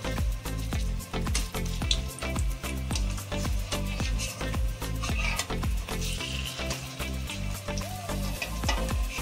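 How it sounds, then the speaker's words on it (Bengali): Drumstick flower fritters frying four at a time in oil over very low heat, a dense continuous crackling sizzle with rapid popping bubbles throughout, close and steady with no voices. "চারটে করে ভেজে নেব, খুব অল্প আঁচে ভাজবো।"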